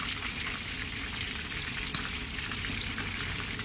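Candlenuts dry-roasting in a pan give a steady, close crackling sizzle that carries evenly throughout, with one brief sharper tick partway in and no voices.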